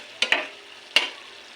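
Pork frying in a pan, a steady soft sizzle with a few sharp stir or scrape clicks near the start and one more partway through, close and moderately loud.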